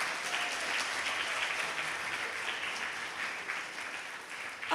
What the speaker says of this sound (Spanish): ¿Y por qué no le aplaudes al Rey de Reyes?